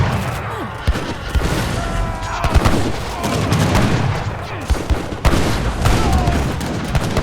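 Musket volleys and cannon fire from an Age of Empires III battle between Cossack and other armies crackle in repeated bursts of gunfire and booms, with commentators talking over the fighting.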